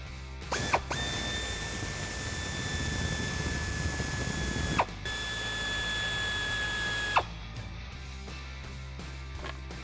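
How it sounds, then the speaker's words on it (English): Pneumatic air ratchet with an 8mm deep socket driving out bolts on a Jeep Wrangler JL while fitting a rear bumper, two long high-pitched whirring runs broken by a short click, then quieter workshop noise, close and loud. "I'm just using an air ratchet just to speed up the process"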